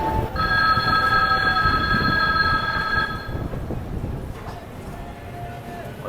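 An Indian Railways Navjeevan SF Express pulls out of a station in the morning with a loud, steady rumble of wheels and wagons, a sustained high metallic wheel squeal ringing over it before the noise gradually eases.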